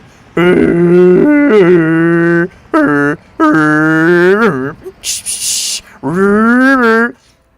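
A person imitates car and siren noises with their voice, a series of loud, held, pitch-sliding vocal tones in short bursts separated by pauses, with a brief hiss in between.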